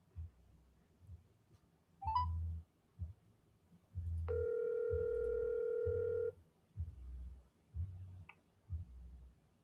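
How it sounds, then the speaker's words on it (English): Telephone call being placed: a dialing chirp, then a steady electronic tone held for about two seconds, followed by a rhythmic ringback pattern repeating at even intervals, clear and close with no talk. "I'm calling him back."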